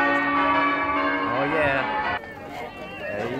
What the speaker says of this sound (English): You might not be able to hear me over the wedding bells